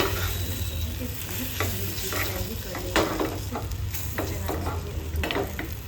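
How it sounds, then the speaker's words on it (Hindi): Egg bhurji omelette fries in a small pan, a continuous close sizzle broken by scraping stirs and occasional clinks, with no one speaking over it. "तो मैं यहाँ पे बना रही हूँ ये ऑमलेट में एग भुर्जी।"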